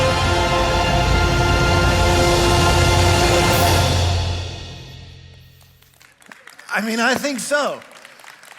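Audience applause after a dramatic scene, a sustained wash of clapping that fades away, followed by someone speaking close up.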